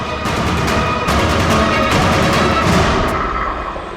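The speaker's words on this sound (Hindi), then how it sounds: "गोली चला दी।" A gunshot in a Hindi TV crime drama fires as a sharp crack, followed by a brief crackle and a decaying boom over a dense, loud dramatic backdrop.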